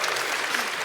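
A brief burst of steady applause from a conference audience at a game Q&A, dense clapping that fills the whole moment.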